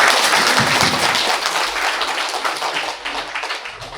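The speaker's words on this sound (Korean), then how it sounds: "박수." Loud applause from a crowd at a political campaign speech, many hands clapping densely and close, gradually thinning out and fading toward the end.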